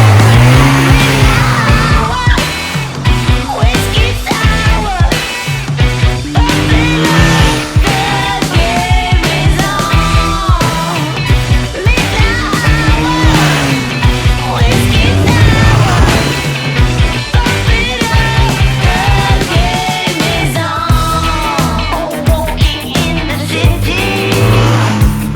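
1986 Honda V65 Magna motorcycle accelerating hard, a loud, continuous engine roar climbing and falling through the gears over a wind-buffeted background.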